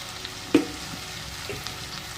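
Okra fries in hot oil with salt for a Maharashtrian bhendi bhaji, producing a faint steady sizzle with a sharp clink near the start and light stirring, quiet and close, with no talk.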